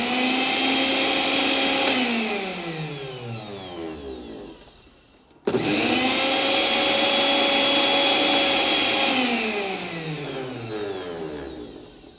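A repaired juicer mixer grinder motor whines loudly, winds down to a stop, then restarts and runs again at full speed before slowing, its high electric whir alone without talk.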